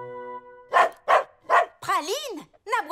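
Three sharp, evenly spaced barks from a small dog, close and loud, followed by a person speaking in an animated voice.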